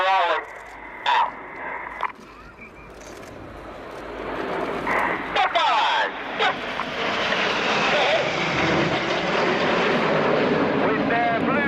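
Red Arrows BAE Hawk T1 jets flying an airshow display at the Royal International Air Tattoo, a rising jet roar building over several seconds and growing louder toward the end, under intermittent commentary and radio calls.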